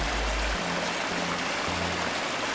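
Running water on a Farming Simulator 22 forestry map, a steady broadband rushing stream sound, loud and close, continuous with a soft low hum in the background and no speech.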